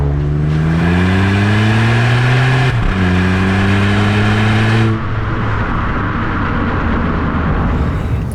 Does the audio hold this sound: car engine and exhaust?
yes